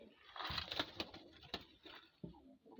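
Newly bought pigeons, including a crested grey-tailed bird, coo close by in soft rolling bursts, with light fluttering and patter between calls.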